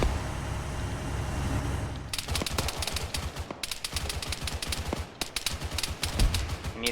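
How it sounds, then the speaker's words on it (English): Rapid, repeated gunshots and automatic bursts in an Arma 3 firefight, loud and sharp, arriving in irregular clusters over a steady background rumble. "And we have some shots going off."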